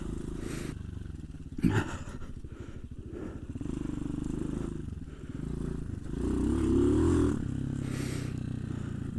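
A Hawk 250 motorcycle bought for about $800 is ridden, its engine droning steadily with a low rumble that swells briefly as it revs, along with a short clatter, and no talking.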